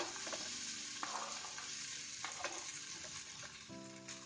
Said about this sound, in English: So pan has heated, and now I'm just going to transfer the sweet potato chips